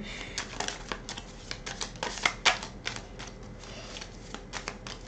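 Tarot cards are drawn and handled, giving a quick series of crisp snapping and sliding card sounds in irregular bursts, close and fairly quiet, with no talking.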